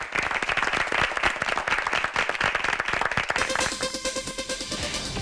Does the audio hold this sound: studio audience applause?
yes